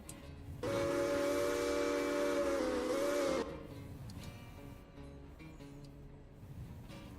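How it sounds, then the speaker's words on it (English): The Santa Fe 6 steam locomotive whistle from the game Railroader blows one sustained, loud chord for about three seconds, followed by quieter train ambience. "Santa Fe 6 is always a good whistle."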